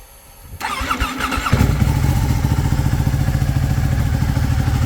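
A Ducati 1199 motorcycle cranks over and fires up, catching after a brief starter whir and settling into a loud, lumpy, rapid idle with mechanical clatter, close by.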